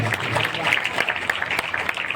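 An audience at a district teachers' education award ceremony in Bijapur, Chhattisgarh, claps in a sustained, even stretch of many hands, with a few sharper claps standing out and some voices underneath.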